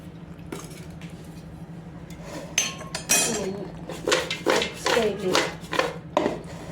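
Freshly steamed dhokla, homemade, moved onto a serving dish: several clinks and scrapes of utensils against the dish, close and fairly loud, over a steady low hum.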